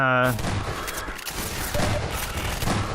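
Gunfire in a video game bursts out as a dense, loud fusillade of rapid shots. It fills the short moment almost without a break, with heavy low thumps beneath the crackle.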